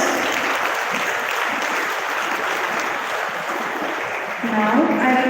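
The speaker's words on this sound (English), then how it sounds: "I request the audience to give them a big round of applause." An audience at an inter-school debate and quiz competition claps in a dense, steady burst of applause that holds throughout and swells slightly near the end, with a voice coming in over the last moment.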